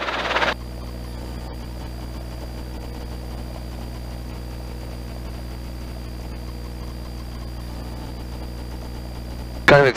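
A steady, droning helicopter engine runs throughout at constant loudness, with brief louder bursts at the very start and end, heard while orbiting over downtown Auburn at 1,000 feet.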